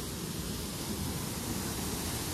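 Fast-flowing water of Jhari Pani falls near Mussoorie rushes in a dense, even roar, close and unbroken, with no voices over it.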